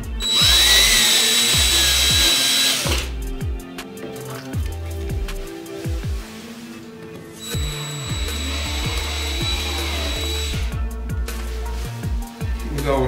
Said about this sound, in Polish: teraz sobie wiercimy te otwory pod czujki